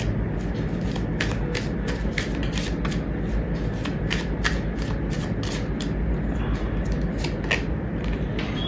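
Tarot cards shuffled and drawn by hand, a steady run of crisp riffling flicks and slaps close up, repeating through the whole stretch with no talking.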